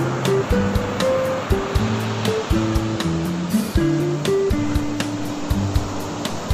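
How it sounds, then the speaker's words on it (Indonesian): Surf rolls steadily onto the beach at sunset at Mutiara Beach, a continuous broad wash under a stepping musical melody. "Ini ombaknya juga cukup gede."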